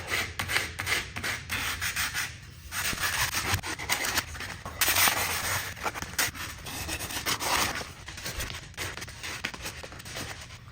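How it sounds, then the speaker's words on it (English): Steady back-and-forth sanding rasps across a wooden joint to clear burn marks from woodworking, loud and close, continuing without pause and with no talking. "So just give that a little sand to get rid of the burn marks"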